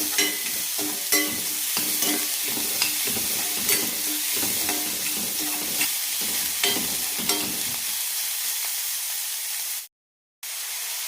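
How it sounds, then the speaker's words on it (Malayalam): Medium-sized onions are frying in the same oil in a pan for a paneer gravy, giving a steady loud sizzle with repeated sharp scraping clicks of stirring. All of it stops abruptly near the end, followed by a brief gap of silence. "ഇനി ഇതേ എണ്ണയിലേക്ക് സവാള ചേർക്കാം."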